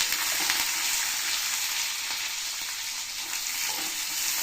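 Red chillies frying in hot oil for tomato rice give a steady, bright sizzle that holds evenly throughout, close and continuous with no talking.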